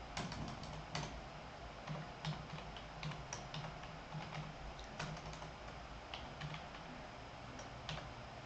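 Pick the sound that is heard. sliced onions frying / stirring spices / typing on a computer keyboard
typing on a computer keyboard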